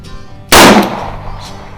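A single sharp, loud shot from a 1908 Smith & Wesson Model 1905 revision 2 .38 Special revolver fired offhand at a range, with a brief decaying echo and no talk.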